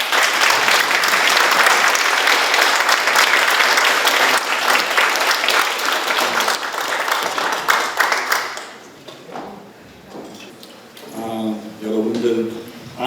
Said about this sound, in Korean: 두 분 박수로 모시겠습니다